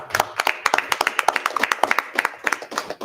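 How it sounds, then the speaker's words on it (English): Scattered hand clapping from a modest audience at the Sto-Rox school board meeting after a motion passes; the claps are sharp and distinct, fairly close, and keep an uneven rhythm for about three seconds. "Clap it up for Mr. Hauser."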